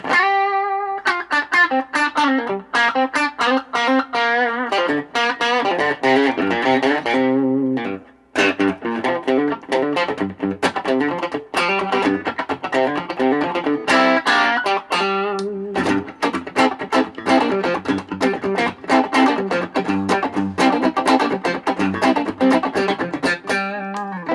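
An Epiphone 339 Pro electric guitar with heavy distortion plays chords and riffs continuously, loud and close, with one brief drop near the middle.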